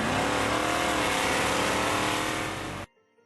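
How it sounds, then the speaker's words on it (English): A drag racing car roars down a converted airstrip at Gimli, a loud continuous engine blast close by that cuts off abruptly near the end. "The Gimli landing strip has been converted into a drag racing strip."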